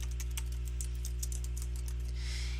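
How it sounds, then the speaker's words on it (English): Someone types on a computer keyboard while entering data in a spreadsheet: a quick run of crisp, close key clicks in irregular rhythm over a steady low electrical hum, with a softer rustle at the end. "in cell C2 I'm going to type in commission rate"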